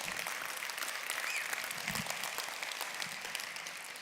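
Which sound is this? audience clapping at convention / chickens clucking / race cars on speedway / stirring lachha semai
audience clapping at convention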